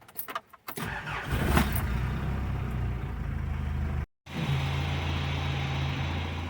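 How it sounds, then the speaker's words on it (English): A car engine idles steadily to warm up before piston carbon cleaning, a low continuous hum up close after a brief rough start, broken once by a short silent gap, with no voices. "So sit here and let it idle."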